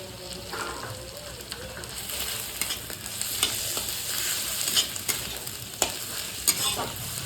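Ginger-garlic paste fries in a pan for a Bengali katla fish curry, a continuous close sizzle broken by repeated scraping strokes as it is stirred.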